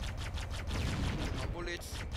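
Rapid bursts of gunfire in the video game Halo: Combat Evolved Anniversary, a dense rattle of repeated shots under a person talking, with a short mechanical whine near the end.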